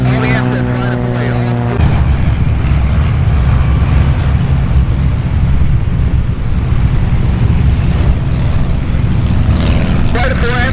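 Amphibious aircraft taking off at EAA AirVenture Oshkosh give a loud, continuous engine roar close by, with a buzzing propeller drone at the start swelling into broad noise, and voices heard faintly over it.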